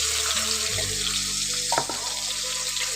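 Chopped tomato and green chilli frying in hot oil in a pan, a steady close broadband sizzle with a brief clatter near the middle and a low hum underneath, no talking.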